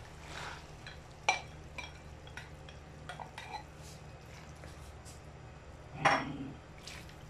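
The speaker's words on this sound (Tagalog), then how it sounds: "Haluin ko lang siya para pakuluin" Pork stirred in coconut milk in a cooking pot, soft scraping and stirring with a few clear clinks of utensil against the pot, quiet and close.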